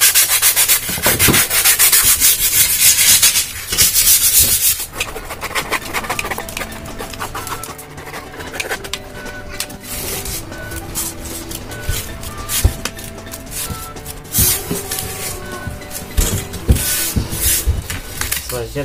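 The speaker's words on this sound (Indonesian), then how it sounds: "Sebelum dilem, kita amplas dulu bagian yang akan bertempelan guys, supaya menempel lebih maksimal." Sandpaper rubs against wood in rapid, rough back-and-forth strokes while preparing a model RC plane wing for gluing, loud and close, with birds chirping faintly in the background.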